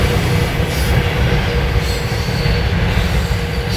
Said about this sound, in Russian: Поезд вот идет рядом